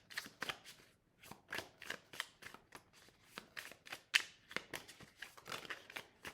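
Tarot cards shuffled by hand in a quiet room, with a rapid series of crisp papery slaps and riffles in irregular bursts, close and soft.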